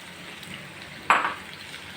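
Masala being stirred into tindora (ivy gourd) sabzi in a pan gives a soft, steady sizzle with one brief, louder scrape of the spoon partway through; no voices.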